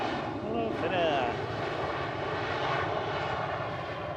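A Finnair airliner at Manchester Airport gives off a steady, fairly loud engine roar, with faint talk running over it throughout.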